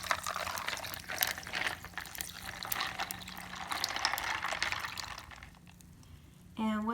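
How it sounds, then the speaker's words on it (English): Hot coffee poured into a measuring cup, a steady close pour of liquid over a faint background murmur, ending in a short rising fill tone as the cup fills. "we're going to pour the coffee into the measuring cup to kind of cool it down since it's really hot"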